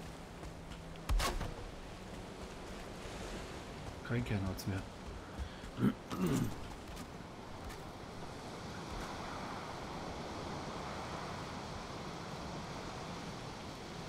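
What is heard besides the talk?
high ocean waves in the video game Valheim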